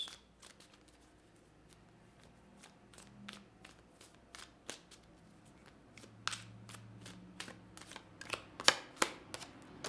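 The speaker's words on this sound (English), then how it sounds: "let's grab some cards from the universe here just to round this all out" Tarot cards are drawn and handled, giving faint, scattered taps, flicks and soft shuffling that grow a little busier toward the end of a quiet room.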